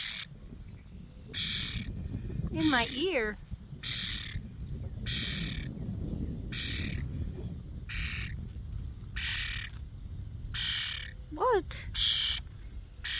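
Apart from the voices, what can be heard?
pet bird squawking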